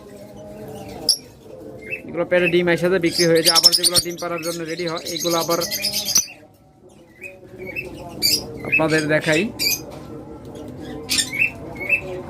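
Caged lovebirds, cockatiels and budgies in a breeding setup chirp, squawk and chatter in close, busy bursts with short pauses, while someone talks over them.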